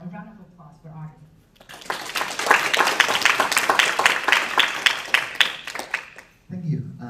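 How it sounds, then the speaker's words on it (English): Audience applause for Audrey Tang at a panel on AI and digital democracy, a dense round of clapping lasting several seconds, bracketed by a speaker's voice before it and after it. "And now a round of applause for Audrey."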